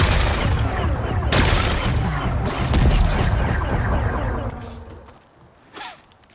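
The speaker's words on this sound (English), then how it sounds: "Gotta blast away some rocks, so I can experience the power cell. It's working! It's exploding." Rocks blasted apart by a power cell in a game, a long loud rumbling explosion with several surging bursts that fade into quieter debris and a short voice-like sound near the end.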